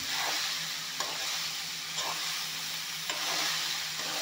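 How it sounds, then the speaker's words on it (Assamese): Peas and fish sizzle steadily in a pan while being stirred, with a few soft scraping knocks of the utensil against the pan over a constant frying hiss. "এতিয়া ধুনীয়াকৈ এইখিনি অলপমান লাৰি দিম।"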